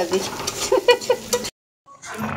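Capsicum, cauliflower and potato are stir-fried in a pan: a close sizzle with several quick scraping, clinking stirring strokes, then a sudden silence before the frying hiss returns more faintly.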